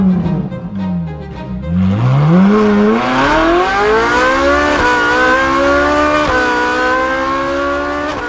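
A racing car engine from a Gran Turismo or Forza style racing video game, revving and climbing through gears with rising whining pitch, loud and close, a brief shift dip then sustained high-revving drone, with no talk.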